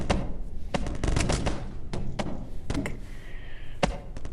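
Massive corn is crushed in a meat grinder in the Melon Playground video game, giving loud, rapid, irregular crunching impacts and thuds in quick bursts. They run throughout, with a brief whine partway through.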